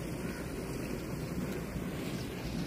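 Water flowing from a canal at a rural tube well, a steady broadband rush with constant wind-like noise and no clear speech.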